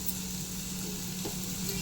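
Pavakkai pieces fry on a slow flame with asafoetida, making a continuous quiet sizzle with a faint stir around the middle and a low hum underneath.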